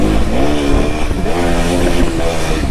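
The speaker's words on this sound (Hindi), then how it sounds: "गाड़ी की आवाज आ रही है भैंस की।" An engine revs loudly nearby, its pitch rising and falling in a couple of surges.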